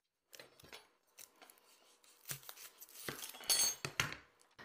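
A knife slices through an onion on a cutting board, giving a string of quiet, irregular cuts and scrapes that grow a little louder and denser toward the end.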